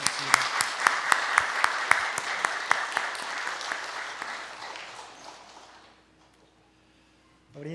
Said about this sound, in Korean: 우리 서로에게 우리 박수 부탁드립니다